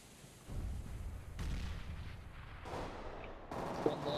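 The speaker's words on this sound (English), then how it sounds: "Throwing flashbang." Flashbang grenade in a competitive shooter video game: a sharp burst with a rumbling noisy tail under ongoing game sound, followed by more muffled bangs and crackle at moderate level.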